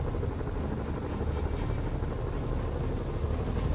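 A helicopter flies over the city in the Spider-Man video game on PC, a loud continuous rotor and engine roar with a dense, steady churn and no speech.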